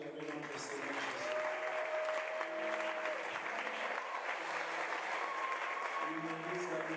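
A church seminar audience applauds and cheers in praise of Jesus, producing dense, sustained clapping from a large crowd with voices and faint tones underneath, steady and loud throughout.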